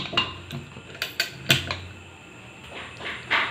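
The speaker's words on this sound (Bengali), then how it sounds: "প্রেসার কুকারটা ঢাকনা দিয়ে বন্ধ করে দেব।" Metal pressure cooker lid knocked and clanked into place while closing it, a series of sharp, close metallic taps and clinks with brief pauses between.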